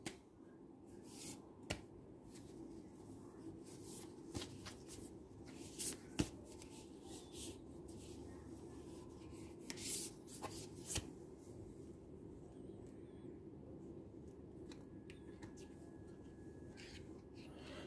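A tarot deck is handled and shuffled to draw a Major Arcana card: repeated papery riffles, slides and taps up close, with a voice talking over much of it.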